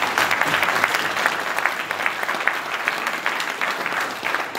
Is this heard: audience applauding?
yes